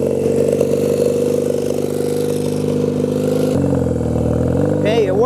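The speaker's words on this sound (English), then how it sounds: "Let's start the bike and let it idle for a bit" Honda Rebel motorcycle engine idling, a steady low harmonic chug that drops in pitch partway through as the revs settle, loud and close, with a brief voice near the end.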